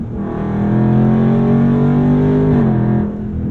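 A Dodge Charger Scat Pack Widebody V8 accelerates hard, its engine note rising steadily in a loud, close, continuous roar before dropping off sharply near the end, with no talking.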